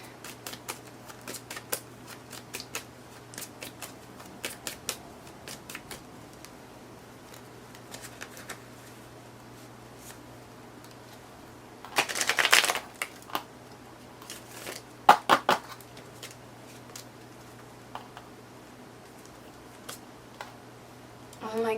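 Tarot cards being shuffled and drawn by hand, soft scattered riffles and flicks with one louder burst of shuffling, close and quiet, with a faint steady hum underneath.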